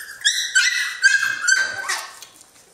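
Three-week-old Swedish Elkhound (Jamthund) puppies whimper and yip in a string of high, close whines, several overlapping cries over a couple of seconds.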